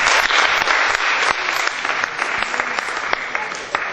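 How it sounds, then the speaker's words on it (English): A congregation claps together in a steady, dense round of applause lasting several seconds with sharp individual claps standing out, close and loud, with a little voice underneath. "Clap for it."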